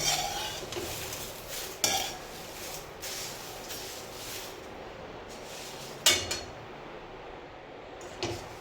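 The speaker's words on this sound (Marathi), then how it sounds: "यात मी तेल टाकलेलं नाही, कोरडाच भाजून घेते" Whole coriander and other whole spices dry-roasting in a pan without oil, a steady rustling scrape with a few sharp clinks of a utensil against the pan, close and moderately quiet.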